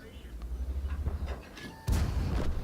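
Tank gun shots in World of Tanks, two muffled booms with the louder, sharper one near the end, heard under a player's commentary.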